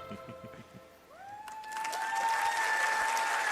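Audience applause swelling from scattered claps into steady, dense clapping in a large hall at a Bethesda E3 press conference, with a sustained musical tone ringing over it.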